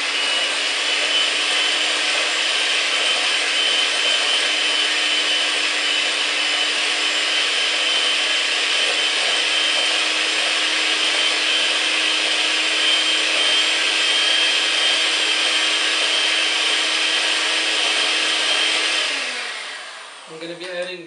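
An electric mixer blends sugar into egg yolks until foamy for a roll cake, a loud, steady whirring drone that holds for nearly twenty seconds before winding down with a few faint clicks.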